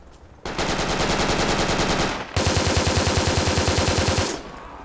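Rapid automatic gunfire from Russian infantry in a video game, two long, loud, dense bursts of shots with a brief gap between them, close and continuous.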